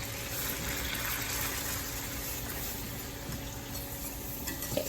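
Flour is whisked into a pan of melted butter, a steady, close, even hiss of whisking and gentle sizzle that runs unbroken for about five seconds with no talk.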